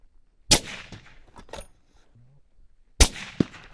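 Two sharp, loud sniper rifle shots about two and a half seconds apart, each a sudden crack with a short tail, with faint quiet sounds between.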